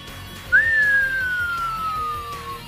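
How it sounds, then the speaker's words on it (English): A single clear whistle swoops up sharply, then glides slowly downward for about two seconds over a faint background hum. "a whistling sound flew past his ear"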